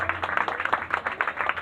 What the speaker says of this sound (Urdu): آئیے روح القدس کے لیے، پاک روح کے لیے زوردار تالیاں بجا کر خدا کے نام کو مبارک کریں گے۔